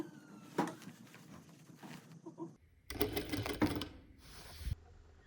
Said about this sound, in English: that's the line that I'm going to sew along on the machine